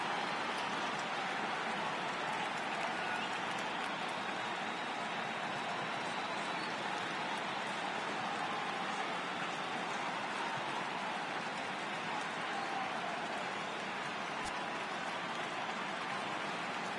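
Steady, even rain pours as a constant hiss throughout a rain delay at a baseball stadium in MLB The Show 18, with no voices over it.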